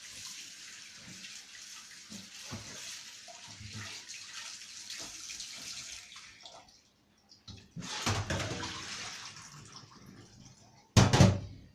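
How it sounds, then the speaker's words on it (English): Running tap water splashes steadily over red herring in a sink, with handling noises as the fish is rinsed, then a brief pause before bursts of louder gushing and splashing return. "Then we're gonna wash the red herring."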